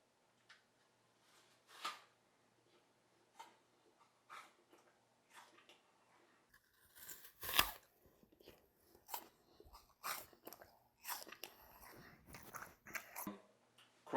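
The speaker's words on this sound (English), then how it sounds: "I'm going to snap a piece of celery" Quiet, crisp snaps and crunches of celery stalks breaking, scattered irregularly, with one sharper crack standing out midway.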